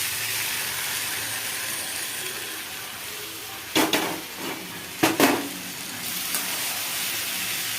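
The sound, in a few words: sautéing bottle gourd greens (lau shak) in a pan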